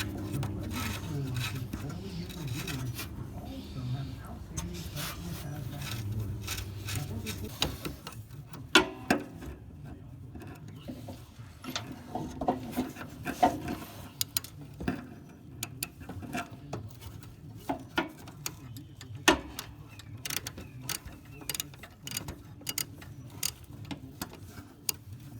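A wrench tightens the big nut on the steering of a Cub Cadet riding lawn mower, making irregular dry clicks and scraping taps that grow sharper and more frequent partway through, close to the microphone.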